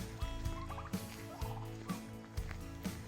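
Several turkeys gobble repeatedly, their rattling calls overlapping at close range with a steady background hum.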